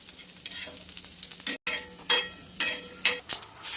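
Ginger and garlic sizzle in a frying pan with coconut, a soft crackling fry broken by repeated stirring scrapes, close and fairly quiet with no talk.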